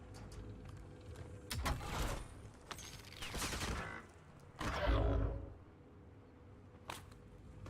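Bursts of video game gunfire, several loud clusters of rapid shots separated by quieter stretches of background game noise, with mechanical clanks mixed in and no speech.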